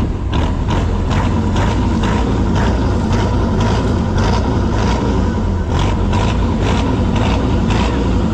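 A boat's new Cummins six-cylinder turbo engine roars loud and close at sea, with a dense continuous rumble and a rhythmic mechanical pulsing knock repeating through the whole stretch.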